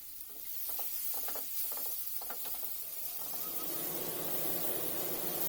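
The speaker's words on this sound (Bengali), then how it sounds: "টমেটোটাকে দিয়ে তেলের সঙ্গে খুব ভালো করে ভেজে নিতে হবে" Tomato pieces fry in hot oil in a pan for a vegetarian okra dish, a soft continuous sizzle that grows a little brighter toward the end, with a few light scraping or clicking taps early on.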